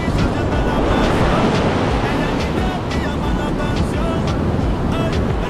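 Loud, steady surf breaking on a beach in El Salvador, a continuous close wash of waves that fills the whole moment while a voice talks faintly underneath.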